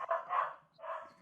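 A dog barks twice in quick succession, close and clear with a slightly yelping, whiny tone, alone without talk.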